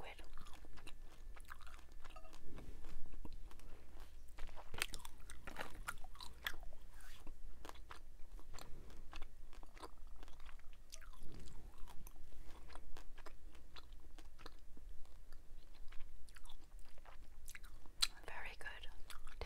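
Strawberry-lime Trident Splash gum being chewed up close, with moist smacking and sharp little snaps and cracks recurring irregularly over a quiet background, plus faint whispered talk in between.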